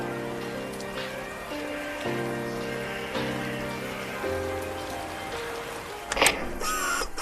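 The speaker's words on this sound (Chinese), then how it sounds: "下雨了。" Steady rain falls outdoors, a soft continuous hiss of drops on surfaces that runs under sustained background tones throughout, with a brief louder splash near the end.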